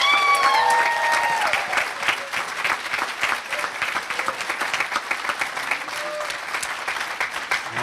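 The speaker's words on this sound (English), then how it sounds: "How about one more round of applause for our graduates?" Applause for graduates at a December graduation recognition ceremony, a dense, steady crowd clapping that holds through the whole stretch, with a voice heard briefly near the start.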